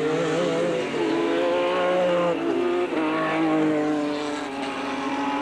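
A Shrike Formula Holden race car at Mallala circuit roars steadily at high revs, its loud engine note shifting through gear changes as it passes.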